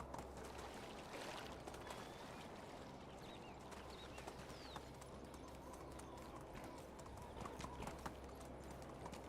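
Horse hooves clip-clop in a steady trotting rhythm in the medieval video game Medieval Dynasty, with bird calls chirping in the background of the countryside.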